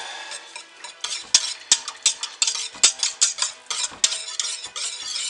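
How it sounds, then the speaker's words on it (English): Thick soap batter being stirred after apple sage fragrance oil is added, a close run of scraping, clinking strokes in an uneven rhythm with no talking. "So roughly half of the apple sage in here. A quarter and a quarter. Stir these in."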